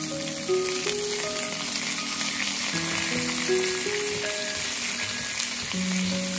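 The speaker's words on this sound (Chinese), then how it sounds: "将肉片煎至两面金黄" Pork belly slices fry in a pan with a steady, close sizzle that runs unbroken underneath background music.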